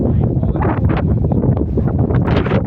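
Loud, gusty wind buffets the microphone throughout, a rough roaring rumble rising and falling in waves.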